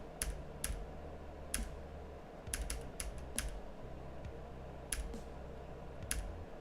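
Computer keyboard keys pressed during Silksong gameplay, sharp scattered clicks in small bursts over a low background hum, fairly quiet and close.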